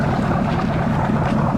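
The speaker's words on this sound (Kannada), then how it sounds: "ಪಬ್ಲಿಕ್ ಫೇರಿ ಬಂದಿದೆ." A public ferry boat pulling in at a Maldives island, heard as a steady low engine drone mixed with wind and lapping water, with no voices.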